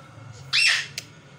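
A child imitates a parrot's call with a single short, high squawk, followed by a brief faint chirp, over a quiet background.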